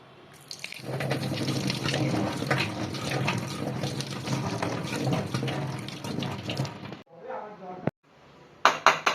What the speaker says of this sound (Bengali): এইরকম সাদা সর্ষেকে আমি ভালো করে ধুয়ে নেব